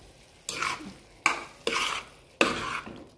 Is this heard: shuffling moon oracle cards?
no